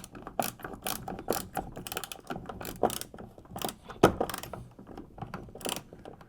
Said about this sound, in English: I'll get the 3/8 inch wrench inside of the hull of the kayak and hold those nuts in place and then tighten it up.